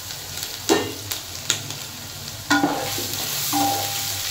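Chopped ginger and green chilli hit a hot pan and fry with a continuous sizzle, broken by several sharp spatula knocks and scrapes at irregular intervals.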